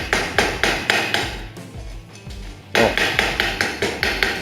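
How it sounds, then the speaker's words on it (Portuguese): A hammer chips slag off a stick electrode weld bead on thin metal tubing, a steady run of sharp, evenly spaced taps with a short pause midway, close and clear. "aqui eu vou remover a escória e ela vai descobrir ali o cordão de solda"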